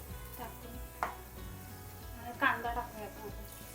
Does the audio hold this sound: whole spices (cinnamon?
yes